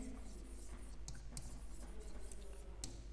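Chalk or marker scratching across a classroom board while a maths equation is written, a faint continuous scraping with a few sharper clicks, heard close over a quiet room.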